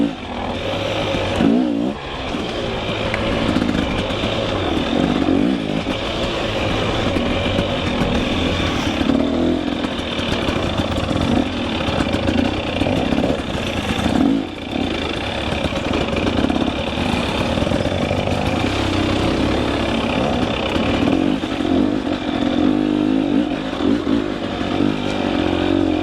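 Two-stroke motorbike engine running steadily with its revs rising and falling, loud and close throughout, a continuous buzzing drone with no pauses.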